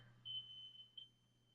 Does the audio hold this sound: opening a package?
no